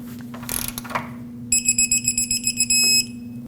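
A castle nut on a Ford Ranger tie rod is tightened with a ratchet, giving a rapid run of sharp metallic clicks close by. An electronic alarm-like beep and a steady low hum sound underneath.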